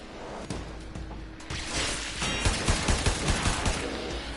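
Rapid bursts of automatic gunfire from enemies in the Warframe video game strike the player, a dense stream of sharp crackling shots with whooshes, moderately loud, with no talk.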